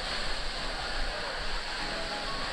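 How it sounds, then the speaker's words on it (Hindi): Pandavkada waterfall in Maharashtra during the monsoon, heard from behind the falls: a loud, continuous broadband roar of falling water that fills the space without pause. "हम लोग झरने के पीछे आ गए हैं"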